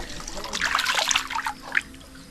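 Water draining out of a fish pond being cleaned, a close, bubbling trickle and gurgle lasting a couple of seconds with faint voices in the background.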